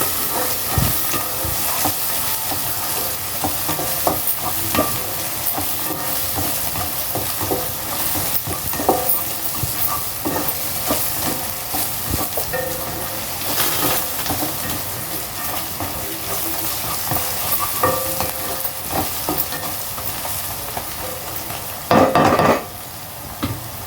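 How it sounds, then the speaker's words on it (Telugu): Ginger-garlic paste fries in hot oil in a pan, giving a continuous close, loud sizzle with stirring scrapes throughout and a brief louder burst near the end. No one speaks. "అల్లం ఎల్లిగడ్డ పేస్ట్ పచ్చివాసం పోయేదాకా వేపాలండి"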